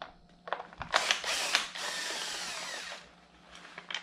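A hand tool works screws loose on a Can-Am Ryker, giving several short bursts of close, ratcheting mechanical whirring, the longest lasting about a second, with no talking.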